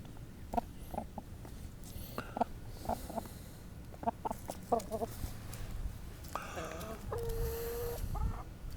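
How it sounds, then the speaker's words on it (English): A hen clucks, soft short clucks in irregular bursts over steady background hum, with a longer squawk-like call near the end, close by. "Hi, chicken."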